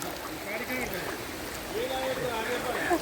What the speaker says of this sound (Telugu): వాటర్ ఫ్లోనైతే ఎక్కువ ఉంది.